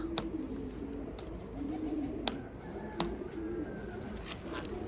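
Pigeons coo in low, rolling phrases repeated several times, with a few sharp clicks and faint background hiss; no one speaks.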